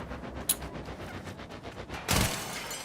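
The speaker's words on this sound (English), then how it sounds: "I'm really liking these twin pistols here" Twin pistols firing in the game Warframe: a sharp shot near the half-second mark, then a loud burst of gunfire near the end, over a steady background of game sound.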